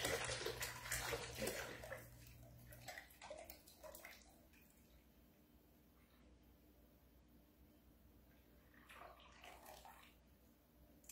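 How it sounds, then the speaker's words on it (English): A gallon of skim milk pours from a jug into a pot on a stovetop, a near, bubbling glug of liquid in the first few seconds, then quieter trickles and drips with a faint background hum. "So I'm going to pour this entire gallon in here."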